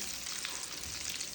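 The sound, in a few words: frying food in a pan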